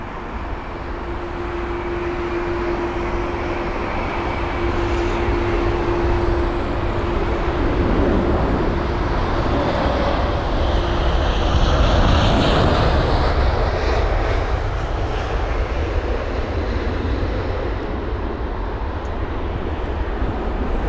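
A Boeing 787-9 Dreamliner lands at London Heathrow on runway 27 right, its engines a loud, steady roar that swells to a peak and then slowly fades, alone with no talk.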